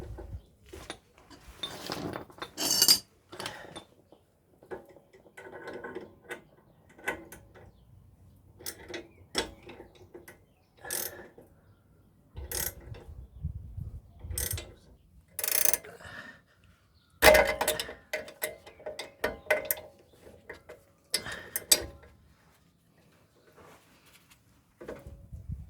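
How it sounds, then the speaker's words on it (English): Tool pressing a rear axle suspension bushing into a Toyota (Yaris, Sienta, Raum), with a run of irregular mechanical clicks, creaks and ratcheting knocks, close and fairly quiet, separated by short pauses. "This will push the bushing inside"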